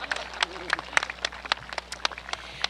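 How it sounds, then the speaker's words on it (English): Scattered applause rises from the visitor side at an Arrowhead High School graduation ceremony in 2021: a thin patter of individual claps, irregular and fairly light, spread across a couple of seconds. "there are people on the visitor side, so give them some extra applause too"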